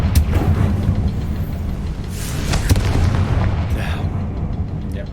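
The Confringo fire spell in Hogwarts Legacy on PS5 goes off as a couple of close, heavy booms with sharp cracks, over a dense rumbling background.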